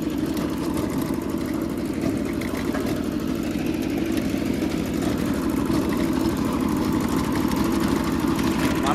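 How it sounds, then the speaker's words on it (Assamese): A tractor ploughing a field in hot weather keeps up a loud, steady engine drone for the whole stretch, with a constant low rumble and no breaks. "ট্ৰেক্টৰ হাল মাৰি আছোঁ"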